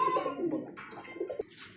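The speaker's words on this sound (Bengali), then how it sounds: "তো রবি ভাই ডানেরটা হচ্ছে মাদি কবুতর বামেরটা হচ্ছে নর" A pigeon coos close by in soft, throaty low notes, a short run of rolling calls from a female and male pair, with faint background noise.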